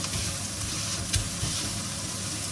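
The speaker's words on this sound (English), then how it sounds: "put your ball in the pan, squash it" Burger patty balls pressed flat in a hot pan, a steady close sizzle and frying hiss with a couple of soft thumps and scrapes from the squashing, no talk.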